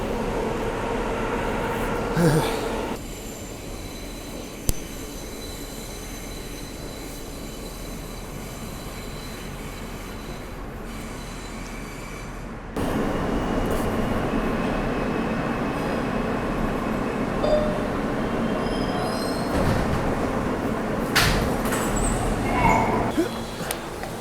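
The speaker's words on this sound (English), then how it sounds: "The train arriving as you get to the station." A subway train rumbles steadily into a station, its noise swelling midway, with brief metallic squeals and clanks over the continuous roar.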